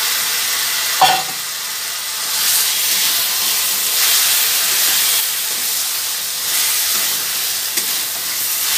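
Chicken marinated in sauce, vinegar, turmeric, cumin and Kashmiri chili powder fries in a pan, giving a loud, continuous hissing sizzle up close, with an occasional sharp clink of a spatula.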